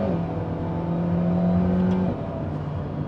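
A 2023 Alpine A110 R engine hums steadily as it revs up through a short gear ratio. Around two seconds in, a quick gearshift makes the pitch drop, heard from inside the car with no talking.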